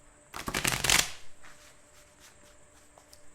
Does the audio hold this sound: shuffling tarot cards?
yes